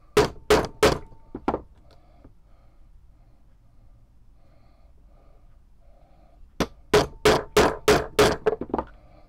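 Sharp repeated strikes of a leather punch driving stitching holes through a sword scabbard cover, a quick group of four near the start, a quiet pause, then a steady run of six or seven evenly spaced hits.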